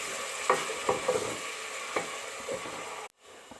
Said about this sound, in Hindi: अब इसको थोड़ा सा फ्राई करेंगे प्याज को